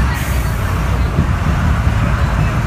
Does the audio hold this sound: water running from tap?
no